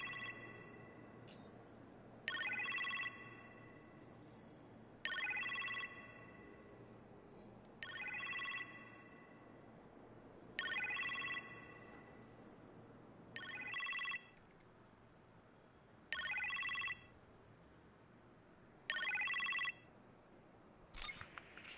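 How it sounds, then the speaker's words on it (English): Telephone ringing in the Iron Man VR video game, a series of evenly spaced two-part rings repeating about every two and a half seconds over a quiet low hum, moderately loud and alone. "You appear to have a phone call in the kitchen"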